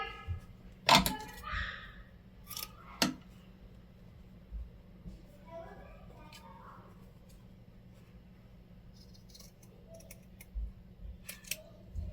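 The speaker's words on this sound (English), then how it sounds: "I'm going to just cut that seam out and move it over." Scissors snip through a fabric seam in a few sharp, close clicks and cuts separated by quiet pauses, with faint handling rustle in a calm room.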